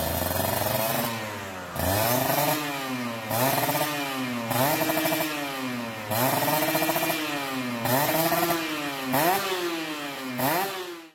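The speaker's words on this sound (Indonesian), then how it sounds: "suara Ninja R itu sangat gurih-gurih nyoy" A Kawasaki Ninja R two-stroke motorcycle revs again and again, its engine and exhaust climbing to a raspy high-pitched scream and dropping back in about seven rhythmic bursts, close and loud.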